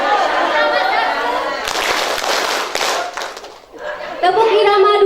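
A group claps hands together in a rhythm pattern during a community health post gathering, a dense burst of clapping between stretches of a voice.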